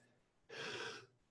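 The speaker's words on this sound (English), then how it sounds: "I'm out of breath." A single heavy, breathy exhale from someone out of breath after ballet jumps, loud and close, with quiet room tone before and after.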